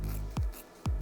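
Scissors snip twice through a post-operative foam pad, two short crisp cuts spaced about half a second apart against a quiet, close background.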